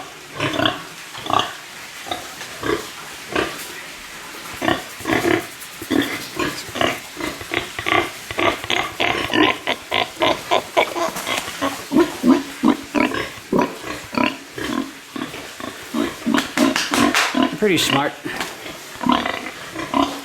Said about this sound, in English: This is a smart pig here. Usually come up if I scratch him.